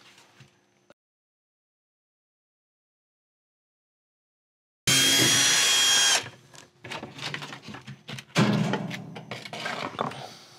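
A power drill removes the screws from the white bottom cover of a Whirlpool washer, with a loud burst of whirring starting midway after near silence, followed by clattering and rattling handling noises.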